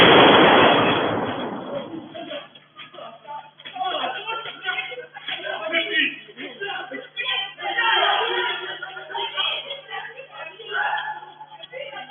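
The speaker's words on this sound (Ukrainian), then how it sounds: "невідомий у військовій формі зі зброєю відкрив стрілянину на подвір'ї" A loud burst of gunfire from a man in military uniform shooting in a yard opens the clip, followed by a stretch of muffled, crackling noise and distant commotion.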